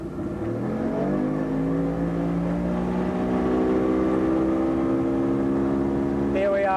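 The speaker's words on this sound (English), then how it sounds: "we're going to do a climb out of the hole nice and flat." Outboard boat engine accelerating hard as the hull climbs out of the hole onto plane, a steady rising drone with pitch sweeping upward, loud and close, then settling into a high sustained whine.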